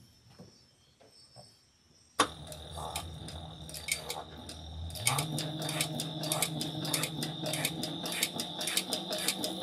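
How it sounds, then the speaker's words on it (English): A sewing machine top stitching fabric book-lover panels starts up abruptly and runs steadily close by, its busy mechanical whir continuing with a slight speed change partway through. "now I'm just going to top stitch this"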